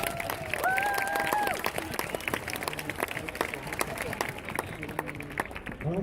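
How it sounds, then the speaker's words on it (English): An audience at a school funding talk claps in a steady, moderately distant round of applause that carries through, with some voices and a brief whistle-like tone mixed in. "So give her a big round of applause to Graham."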